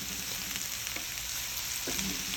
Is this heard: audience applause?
no